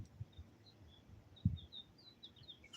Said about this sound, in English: I never hear birds chirp like that ever.